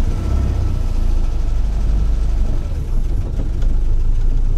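A GAZ 21 car engine runs during a test ride with the car in gear, giving a steady, close, low rumble that stays loud and even throughout.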